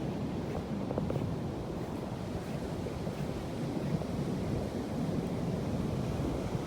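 Small waves wash steadily onto a winter beach at night, a continuous close surf rumble with wind buffeting the microphone and no voices.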